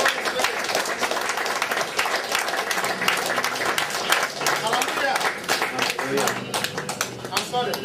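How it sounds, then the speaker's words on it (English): Church congregation clapping their hands in steady, dense applause, loud and continuous throughout, with a preacher's voice speaking over the clapping. "Clap your hands for the Holy Spirit."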